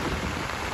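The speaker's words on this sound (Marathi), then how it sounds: "खूप पाऊस आहे बाहेर" Heavy monsoon rain pours near Lonavala in a loud, unbroken roar of drops drumming on surfaces, with no voices over it.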